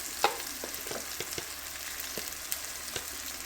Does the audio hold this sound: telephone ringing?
no